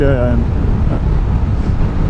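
Strong, steady wind roar buffets a rider on a Suzuki GSX-S 1000 GT motorcycle at road speed, a loud continuous rushing noise with no pauses.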